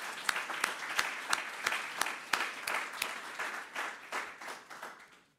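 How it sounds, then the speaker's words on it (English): Audience applause at a charity golf tournament announcement event, a crowd clapping steadily with a few sharper individual claps standing out, fading gradually toward the end. "Let's give them a big round of applause."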